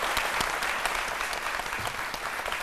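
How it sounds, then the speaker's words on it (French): A television studio audience gives steady, full applause for a prize-winning actor, a continuous wash of many hands clapping without pause. "on va l'applaudir très fort"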